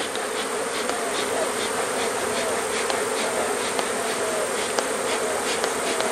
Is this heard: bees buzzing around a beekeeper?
yes